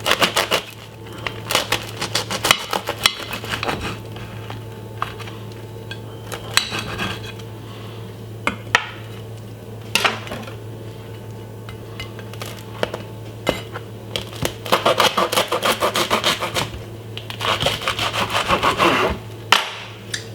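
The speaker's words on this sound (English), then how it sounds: "simply just cut into half" A knife sawing through a baguette on a board, a long series of rough, crunchy scraping strokes over a steady low background hum, close up and without speech.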